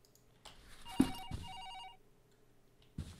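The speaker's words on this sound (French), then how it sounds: "Le téléphone sonne, allons-y." Telephone ringing inside a video game, a few bursts of ringing heard alone in a quiet scene, ending with a soft thump.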